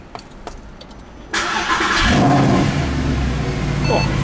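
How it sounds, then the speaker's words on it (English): A Mercedes-Benz SLS push-button starts: quiet cabin noise, then a sudden loud engine catch that settles into a strong, steady idle nearby, with a person speaking faintly over it. "Just push start."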